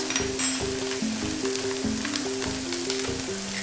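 Meat frying in a pan for a hashbrown breakfast casserole, a steady close sizzle with a tonal hum underneath and no one talking.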